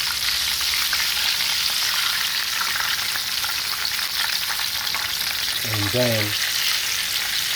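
Cayenne lemon pepper garlic chicken wings frying in oil, a constant dense sizzle up close, with someone briefly speaking near the end.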